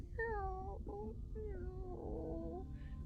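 A tabby cat sound effect in a tabletop role-play session: a few drawn-out meows and a wavering cry, close and clear, with soft voices murmuring underneath.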